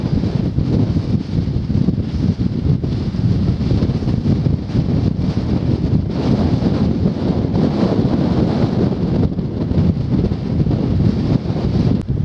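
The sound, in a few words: strong wind blowing on a coastal walk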